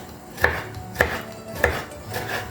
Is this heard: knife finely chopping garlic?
yes